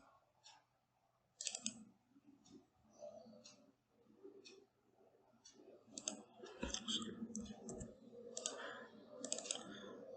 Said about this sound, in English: if you want, just double click it